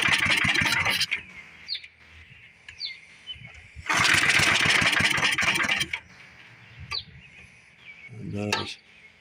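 An old Briggs and Stratton small engine on a tiller sputters in loud bursts as it floods, cutting out between attempts, with someone talking in the gaps and birds audible nearby.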